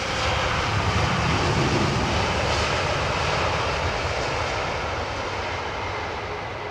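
A Boeing 787 Dreamliner arriving on Heathrow runway 27R roars steadily overhead, a loud broadband engine rush that fades slightly toward the end, with no voices.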